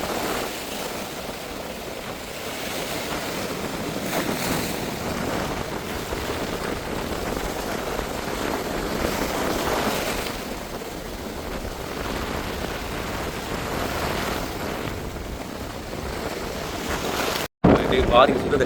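Strong, steady wind roars across the microphone at a rough sea in Jaffna, Sri Lanka, with a continuous broadband rush, constant throughout and ending in a brief dropout.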